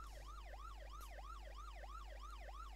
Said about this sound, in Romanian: E salvarea, bă.